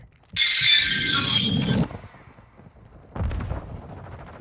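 Dual pistols firing in Call of Duty: a loud burst of rapid sharp shots lasting over a second, a short pause, then a second quieter burst, with no talk.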